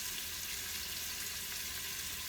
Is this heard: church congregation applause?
no